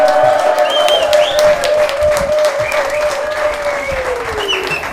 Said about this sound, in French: Applaudissements encore bien fort.